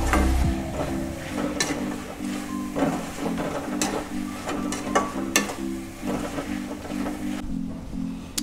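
Pav bhaji mixture with coriander leaves sautéed in a pan, with repeated spoon scrapes and taps over a low sizzle and a steady hum, close by.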